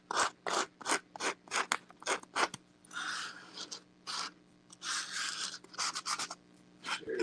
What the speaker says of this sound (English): you can cut your sandpaper down to where it's easier to use if you want to.